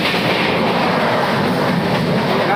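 A Rajdhani train runs along the rails with a steady, close rumble and a faint rhythmic clatter of wheels, and no voices.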